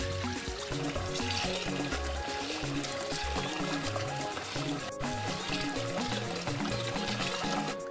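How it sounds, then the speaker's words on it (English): Water pours and splashes while rice is rinsed for parsley rice, a continuous liquid trickle that plays quietly under background music. "I'll quickly rinse my rice or wash the rice for when I want to cook it"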